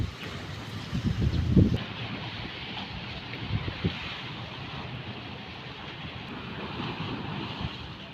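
Steady wind and sea waves at a seaside spot, a broad continuous rush with some wind buffeting on the microphone, louder gusts near the start and then an even roar throughout.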